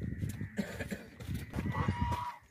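Desi goats at a livestock market bleat in short, wavering cries amid crowd noise, with other animals and fowl faintly in the background.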